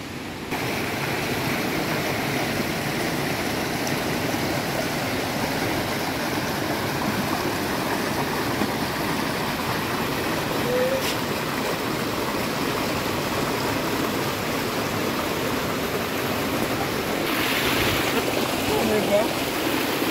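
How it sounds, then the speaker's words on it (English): River water at Cane River Falls flows in a steady, close, unbroken rush that fills the whole stretch at an even loudness, with no clear breaks or changes. "That's the river."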